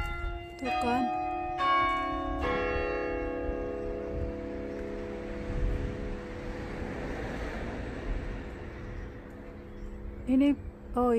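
An old church clock bell, on a church roughly 400 years old, strikes the quarter hour; a few resonant, ringing strokes fade slowly into a long decay, with a person speaking nearby.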